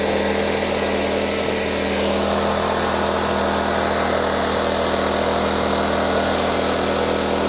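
A 2500W portable inverter generator runs steadily after a pull start, its engine holding an even, continuous hum and drone close by with no pauses.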